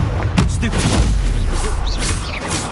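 A Confringo fire spell explodes in Hogwarts Legacy with a heavy boom and crackling whooshes, loud and close, followed by softer rumbling impacts.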